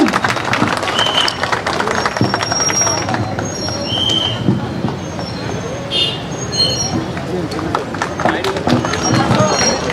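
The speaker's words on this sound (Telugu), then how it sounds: "సార్ గట్టిగా చప్పట్లు కొట్టాలండి" Audience clapping at a shopping mall bumper prize draw, continuous dense applause with a crowd murmur and a host speaking over it, lively and fairly loud.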